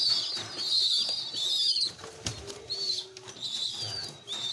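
Young pigeons about 25 days old, bred from an endemic Java Kedu cross, coo softly while wings flap nearby, in a close, busy loft with no talking.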